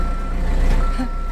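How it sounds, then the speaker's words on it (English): A backhoe reverse alarm beeps steadily at a construction site, a thin tone repeating over a low engine rumble, moderately close and heard alone. "that means the backhoe's backing up"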